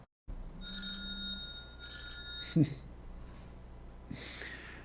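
A telephone rings with an incoming call, two repeated electronic ring bursts over a steady low hum, followed by a brief breathy sound.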